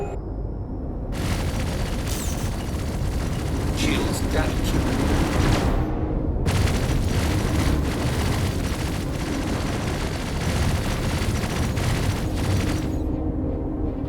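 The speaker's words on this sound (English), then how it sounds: "The turrets are already shooting." Ship turrets fire and explosions roar in the space combat game Star Citizen, a loud, dense barrage of booms and gunfire running almost continuously, with brief breaks.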